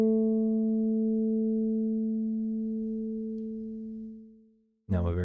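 Two sustained, slightly mistuned pitched tones hold steady and slowly fade, their interference producing a slow beating wobble, before a brief burst of noise at the very end.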